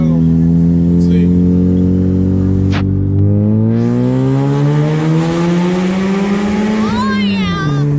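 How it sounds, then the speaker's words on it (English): A car with a loud exhaust, suffering head gasket trouble, drives through a tunnel. Its deep engine drone is loud and close, rising in pitch as it revs, then easing near the end, with reverberant tunnel echo. "it's a loud exhaust tunnel"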